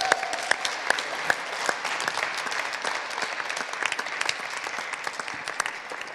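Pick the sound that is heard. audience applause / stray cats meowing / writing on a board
audience applause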